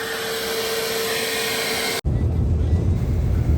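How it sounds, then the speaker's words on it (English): A vacuum cleaner sucks out old sand with a steady, loud roaring drone. Partway through it cuts out for an instant, then returns with a deeper, rumblier tone. "Using the vacuum, getting all this old sand out and get ready for new sand going in."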